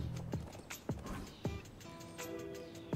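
Horse hooves in the Nobody Saves the World video game clop in a steady, evenly spaced rhythm of four or five distinct knocks over a light music bed.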